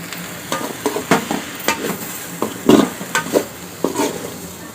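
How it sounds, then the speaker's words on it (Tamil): Cabbage is stir-fried in a pan with chili powder, giving a constant sizzle under repeated scraping strokes of a spatula in an uneven rhythm, close and fairly loud. "நல்லா வதங்கிடுச்சு பாருங்க கோசு இதுல கொஞ்சம் மிளகாத்தூள் சேர்த்துக்கலாம் போட்டு நல்லா வதக்கிக்கோங்க"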